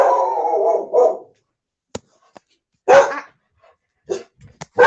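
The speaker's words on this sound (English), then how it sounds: "the dogs have decided to start barking" A dog barks in loud, separate bursts, with a longer harmonic bark at the start and short sharp yaps following, close to the microphone.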